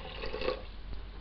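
Water splashes and trickles as it is poured into the basin of a potter's kick wheel, a brief close-up pour that swells and then fades into drips.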